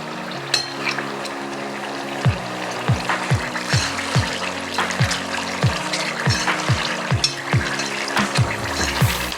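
Tomato sauce going into chilli paste frying in a pan, a steady bubbling sizzle with a run of repeated scraping clicks from stirring at an even rhythm, close and fairly loud.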